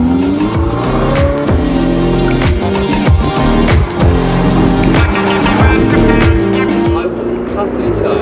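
Ferrari 488 Spider driven hard, with an engine that revs and shifts through gears and tires that squeal, loud and close throughout while a voice talks over it.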